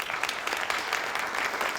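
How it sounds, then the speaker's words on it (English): Audience clapping steadily at an outdoor park festival launch announcing a free summer concert series, a dense, even wash of many hands with no voices over it. "That deserves a round of applause."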